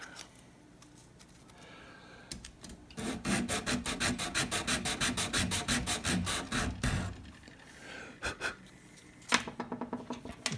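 Hand sanding with 220-grit sandpaper on a guitar's nut area, a rapid run of close, rhythmic rasping strokes that starts after a quiet moment and then trails off into a few lighter rubs.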